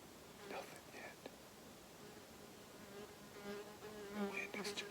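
A wasp buzzes faintly and close on an elk hunt in Washington, its hum rising and fading in short passes over light wind, with a soft whispering voice.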